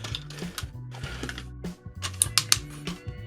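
Ratcheting shoulder joints of a Hello Carbot Victor pickup-truck transforming toy robot click in quick bursts of small plastic ticks and gear-like chatter, close up and fairly quiet.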